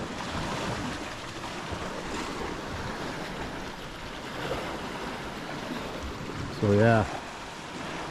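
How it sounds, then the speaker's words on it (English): Waves wash steadily onto a beach on the Camotes Islands at high tide, making a continuous broad surf roar mixed with wind, and someone speaks briefly near the end. "So high tide right now, not much of a beach, but I'm sure at low tide it's pretty good."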